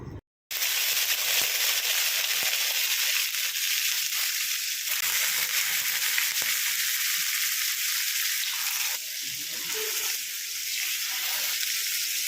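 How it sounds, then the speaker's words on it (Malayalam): Mackerel fillets, coated in ground green peppercorn, shallow frying in hot oil, a loud steady broadband sizzle running for the whole stretch after a brief quiet start, with a few soft clinks over it. "എണ്ണ നന്നായി ചൂടായിട്ടുണ്ട് അതിലേക്ക് ഓരോ മീനായിട്ട് എടുത്തു വെച്ച് കൊടുക്കുക"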